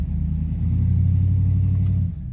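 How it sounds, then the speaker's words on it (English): A pickup truck engine revs while towing a travel trailer, a loud, close, low rumbling drone that holds steady and strong before dropping off sharply near the end. "listen to the truck rev up, right?"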